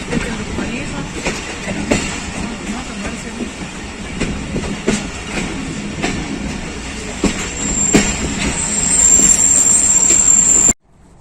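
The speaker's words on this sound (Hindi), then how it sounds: "14 डाउन अवाम एक्सप्रेस के साथ क्रॉस तरक्की के मुकाम पर" A Pakistan Railways train rolls through Taraki station at the foot of hills as the Awam Express crosses, with steady wheel clatter and rumble, rhythmic clicks over rail joints, and a thin metallic squeal rising near the end.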